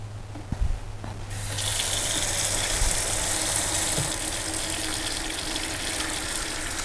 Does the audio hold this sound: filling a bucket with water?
yes